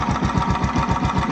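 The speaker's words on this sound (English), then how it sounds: "The engine is running and cranking." A crash-damaged Yamaha YZF R125 motorcycle engine runs just after a cold start, a steady, close, loud idle with a fast, regular pulsing beat throughout.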